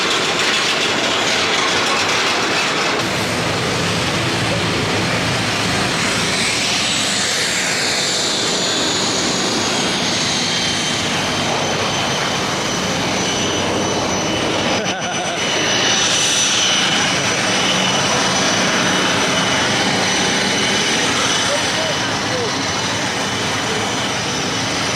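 Steady airliner engine roar inside the cabin of a Logan Air flight from Southampton, a broad continuous drone with a high whine running throughout, heard close and without talk.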